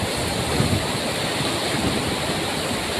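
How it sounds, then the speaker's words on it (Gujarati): Water rushes over an overflowing village dam in a loud, steady, unbroken roar of spilling flow that fills the whole clip. "એકદમ ફૂલ પાણી જાય છે"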